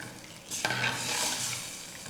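Dal is stirred into hot masala in a pot, a sudden loud sizzle bursting in and then crackling steadily while a spoon scrapes and turns it close up.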